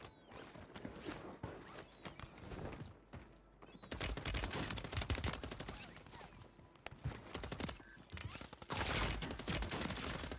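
Gunfire in the Warzone video game, several players shooting at once, dense bursts and fusillades recurring through ten seconds of chaotic combat, loud and close with some quieter gaps.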